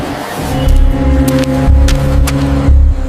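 A car engine rumbles loudly close by, its low drone swelling and easing in a few surges as the vehicle pulls up, with no talk over it.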